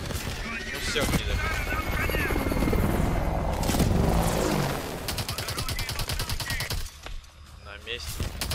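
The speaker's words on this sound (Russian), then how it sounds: "Где вертолет?" Helicopter rotor thrum and bursts of rapid gunfire in Call of Duty: Advanced Warfare, loud and continuous, with heavy firing in the middle and sharp, rattling shots toward the end; someone talks over the action.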